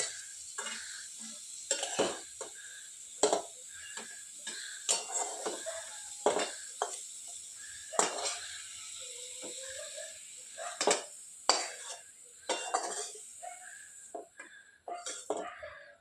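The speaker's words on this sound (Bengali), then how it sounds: "এবারে আলু ভাজাটা আমি তুলে নেব" A metal utensil scrapes and clinks against a pan while lifting out potatoes fried with salt and turmeric, producing irregular sharp clatters and scrapes over a faint background sizzle, close by.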